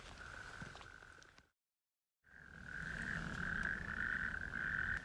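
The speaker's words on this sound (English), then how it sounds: "whether the natterjacks are getting louder or whether we're getting more accustomed to that sound" Natterjack toads call at night in a loud, continuous trilling chorus that sounds close, broken by a brief gap of silence before resuming even stronger.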